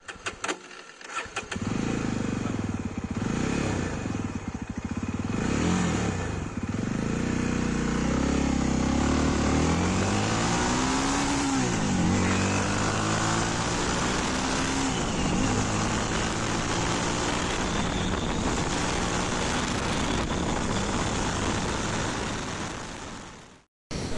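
A 2023 Jawa 42 cruiser motorcycle on the road, its engine droning steadily and rising in pitch as it accelerates through the gears, with heavy wind rush throughout and no talking.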